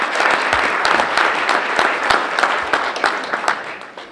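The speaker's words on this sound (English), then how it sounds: "How about a round of applause?" An audience gives a round of applause at the Good Morning Metro South community gathering. The clapping is dense and steady, with many individual claps standing out, and it runs loudly through the whole clip.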